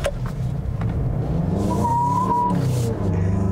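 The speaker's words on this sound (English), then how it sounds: "An all-wheel drive car that will spin out its front tires." A 2021 Mazda CX-9 Signature, an all-wheel-drive SUV with a six-speed automatic, spins its front tires under hard acceleration, giving a loud engine roar with a brief tire squeal rising in the middle.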